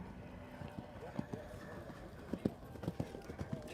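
Hooves of a big, slow-moving, careful horse clip-clopping across an arena during a show jumping round, a series of muffled, uneven thuds under a commentator's talk and the crowd's murmur.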